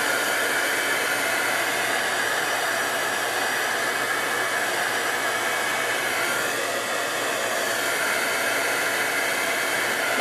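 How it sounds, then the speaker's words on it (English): A heat tool blows a steady, loud whooshing stream of hot air for about ten seconds while drying watercolor paint for a card background, with no pauses or talking. "I'm going to go ahead and dry it with my heat tool so we can do the next color"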